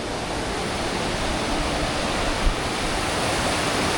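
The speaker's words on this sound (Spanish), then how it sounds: "Cómo baja el río aquí, por el centro de la ciudad." A river rushes through the centre of Aguas Calientes, Peru, giving a loud, steady roar of churning water that fills the whole scene without letting up. No one speaks.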